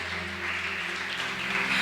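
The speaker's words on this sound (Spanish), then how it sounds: "le vas a dar un fuerte aplauso al Espíritu Santo de Dios" A church congregation applauds during a Spanish-language service, a steady, dense wash of clapping that holds at an even level throughout, with a low sustained organ or keyboard hum beneath.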